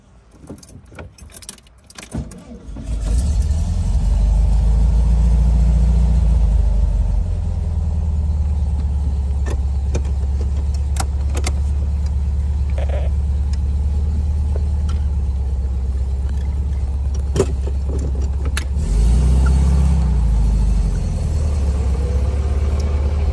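Air-cooled engine of a 1955 VW Karmann Type 15 starting to drive after a few clicks and rattles, settling into a steady low rumble close by that swells again toward the end, with no talking.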